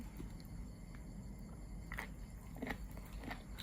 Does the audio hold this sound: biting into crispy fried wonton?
yes